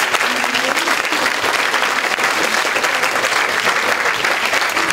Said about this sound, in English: do please give a round of applause to our speakers